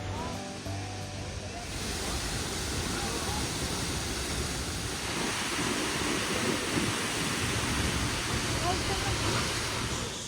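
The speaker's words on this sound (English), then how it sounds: "We're about to walk under a waterfall." A waterfall in Iceland roars in a constant, broad rushing wash, loud and enveloping, with faint wind buffeting, heard from close enough to walk under it.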